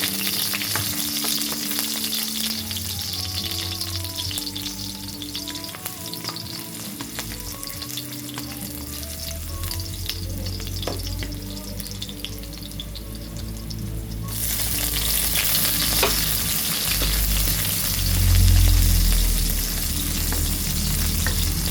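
Oil heating in a pan for a chicken chopsuey with sayote sizzles and crackles steadily throughout, with stirring and scraping on top, growing louder and denser in the second half as the frying intensifies.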